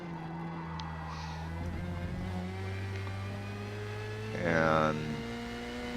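A Formula Mazda spec race car with a Mazda rotary engine in the Forza Motorsport game, heading out for qualifying at Road America, drones in a steady buzzing tone that climbs briefly near the end, under someone talking.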